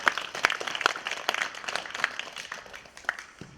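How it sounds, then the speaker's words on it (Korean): A small audience at a local history and culture talk concert gives sparse, quiet, scattered clapping to welcome a city council member, with individual claps standing out rather than a full roar. "큰 박수로 맞아주십시오."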